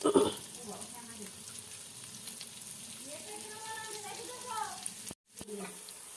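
Salted food frying in a pan while being stirred, a steady broad sizzle with a few scraping motions. A voice talks over the cooking for much of the time, and there is a brief cut near the end.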